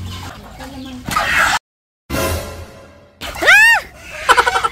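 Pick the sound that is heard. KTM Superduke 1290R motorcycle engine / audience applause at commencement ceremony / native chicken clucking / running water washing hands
native chicken clucking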